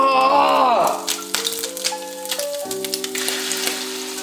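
Eggs tossed into a hot frying pan for breakfast sandwiches burst into a loud, close sizzle that settles into a steady crackling fry with scattered pops.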